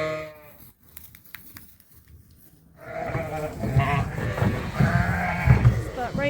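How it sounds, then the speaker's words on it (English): A sheep bleats in a lambing barn among newborn lambs and ewes. A single bleat sounds first, then after a quiet pause comes louder, sustained bleating and barn noise. "Here's a sheep that was prepared for lambing."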